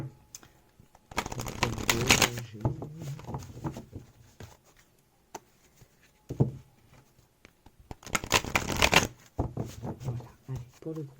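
A deck of cards riffled and cut in two loud, close bursts of rapid fluttering snaps, with taps and a person talking in between.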